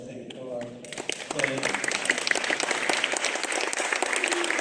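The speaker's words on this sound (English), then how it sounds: "I think another round of applause, I think, for" An awards ceremony audience breaks into a round of applause, dense and sustained clapping filling the room after a voice trails off at the start.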